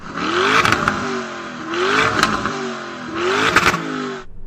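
A Lamborghini Urus SUV revs its engine three times in even succession, each rise climbing and then falling away, loud and close with no talking.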